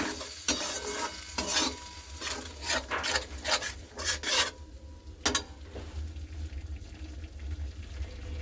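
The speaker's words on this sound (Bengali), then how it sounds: "এই 1/2 চামচ মতো কাশ্মীরি লঙ্কার গুঁড়ো দিলাম, দিয়ে এটা কষালাম" Spinach curry sautés in a pan after Kashmiri chili powder goes in, with a quiet sizzle under repeated scraping, stirring strokes of a spoon.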